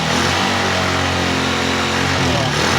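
A Honda TMX Alpha motorcycle engine revs loud and steady close by, a continuous droning roar with a voice faintly under it.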